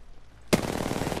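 Sudden burst of rapid automatic gunfire in the shooter game Apex Legends, loud and close, continuing as a dense rattling stream until the end.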